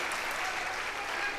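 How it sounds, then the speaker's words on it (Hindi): An audience at a Jain religious discourse by Niyam Sagar Ji Maharaj claps hard in dense, continuous applause that holds steady and loud throughout. "यहाँ पर बहुत जोर से चप्पा ताली बजाए आप लोगों ने"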